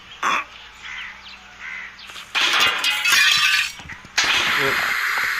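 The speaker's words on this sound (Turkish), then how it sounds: "Ulan yanlışlıkla kırdık camı." In the video game Hello Neighbor, a glass window breaks with a loud, sharp crash and scattering shards, followed by a second bright burst, under game noise and some speech.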